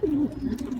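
A racing pigeon cooing close by in Sariaya, Quezon, just back from a training flight. One loud, low drawn-out coo fades into softer murmuring coos, with no voices.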